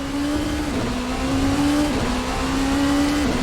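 A Rebellion R13 LMP race car in Assetto Corsa is driven hard, its engine a loud continuous whine that dips and rises in short repeated steps as gears change under braking.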